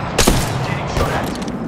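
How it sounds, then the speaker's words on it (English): Rapid gunfire in the Apex Legends battle royale game, a quick burst of sharp cracking shots followed by a couple of fainter reports over a short span, with game noise underneath. "Getting shot at."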